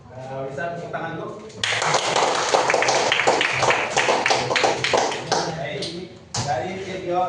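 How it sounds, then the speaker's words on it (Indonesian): A class of students claps hands together in a classroom lesson, a dense burst of close clapping that starts after a brief murmur, continues for several seconds, pauses briefly, then resumes. "bisa tepuk tangan dulu"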